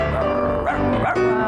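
A person mimics a dog's bark with a drawn-out, whimpering voiced sound, loud and close, rising twice in quick succession.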